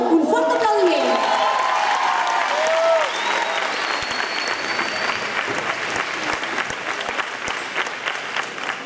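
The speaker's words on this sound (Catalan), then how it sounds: "Un fort aplaudiment!" Concert audience applauding loudly and steadily at an outdoor summer camp rock show, dense clapping sustained throughout with a brief announcer's voice at the start.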